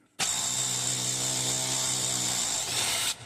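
A power tool spins a socket on the rusty body bolts of a 1967 VW Beetle during body removal, giving one steady, high-pitched whirring burst of about three seconds with no talk over it.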